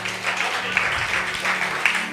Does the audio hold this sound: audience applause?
yes